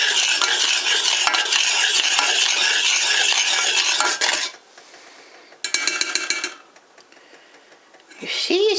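A spoon stirs thickening apple and peach pie filling in a pot on the stove, giving several seconds of dense, wet scraping and bubbling. Quieter gaps follow, with a brief burst of clinking and stirring in between.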